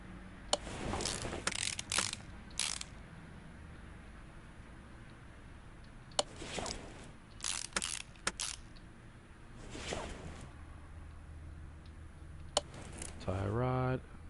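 Ratchet wrench tightening U-bolts on a Willys Jeep in the Car Mechanic Simulator game, with bursts of clicking and mechanical clatter separated by quiet gaps and a rapid ratcheting run at the end.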